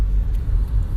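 Car traffic on a road, heard as a steady low rumble of passing vehicles that holds at a fairly even level throughout, with no voices over it.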